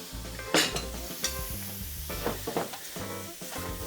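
Chopped squid pieces sauté in a pan, a lively close sizzle broken by repeated scrapes and clatters of stirring, with a low rhythmic background pulse and no talk.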